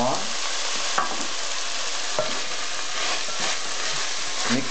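Laing with chili sautéing in a pan, a steady loud sizzle of frying with the clatter and scrape of a spoon stirring through it, no talking.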